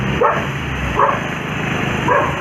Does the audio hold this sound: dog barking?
yes